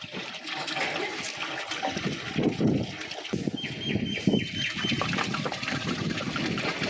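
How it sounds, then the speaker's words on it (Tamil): Water splashes and gurgles unevenly for several seconds, pouring in bursts with a faint high whine partway through. "ரெண்டாம் கண்ணு ஊற்றிக்கிட்டு இருக்காப்புல"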